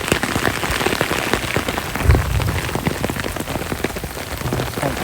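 Heavy rain pounds steadily on a marsh during a lightning storm, a dense, continuous close downpour with one brief low thump partway through and no talk.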